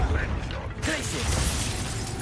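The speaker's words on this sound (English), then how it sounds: "Glacius!" An ice spell crackles and freezes in Hogwarts Legacy, a dense mechanical crunch starting mid-clip over continuous game noise, with a voice calling out the spell.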